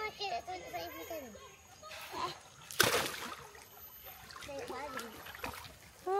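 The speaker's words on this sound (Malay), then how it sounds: "Oh, Caca berenang." A child splashes in river water at a riverside nature campsite, with bursts of splashing and trickling between frequent children's chatter and adult voices nearby.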